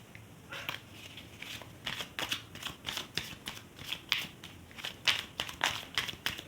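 Tarot cards are shuffled and drawn, producing a steady series of close, crisp riffling and flicking bursts in a quiet room.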